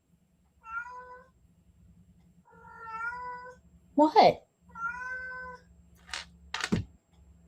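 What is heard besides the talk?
cat meowing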